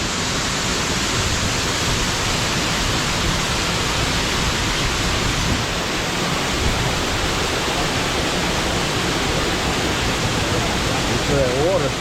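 Waterfall rushing beside a riverboat at the Gaylord Opryland resort, a steady loud broadband roar of water holding constant throughout with no pauses.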